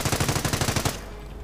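A video game machine gun bunker fires a rapid, steady stream of about a dozen evenly spaced shots. The burst is fairly loud, then cuts off into a quieter ambient tail.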